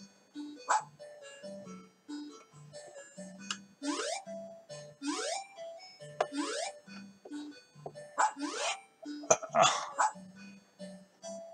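Synthesized dog barks and yelps from a Sega Pico video game, repeated in short bursts at a steady rhythm over chiming electronic game music.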